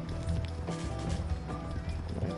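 Horse hooves clip-clop at a steady trotting rhythm in Red Dead Redemption 2, close and continuous under a dense layer of game sound and music, with a voice talking over it.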